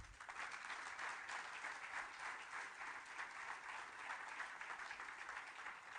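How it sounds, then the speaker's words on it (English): An audience at a book release ceremony claps steadily, a dense, even wash of applause from a crowd that carries on for the whole stretch without talk. "Give him a clap, he is the man."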